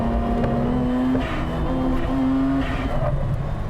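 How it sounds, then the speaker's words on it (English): Race cars, including an MCR GTR and an Impreza, speed through turns on a circuit, engines droning and shifting pitch as they pass nearby, with rising and falling revs over several seconds. "The cars are entering the high-speed section."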